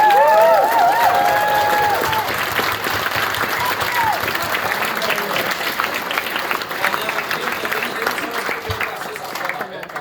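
Conference audience at a microbiology anniversary event applauding the catering staff, dense sustained clapping and cheering filling the room for the full stretch, slowly thinning toward the end, with a voice briefly heard over it at the start.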